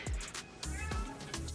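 A cat meows a few times in the background of an indoor room, short tonal calls repeating at a moderate level with faint talk nearby.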